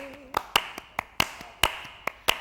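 A live studio audience on a Filipino evening talk show claps in sharp, separate bursts, about eight distinct slaps at uneven intervals, with a brief voice at the start.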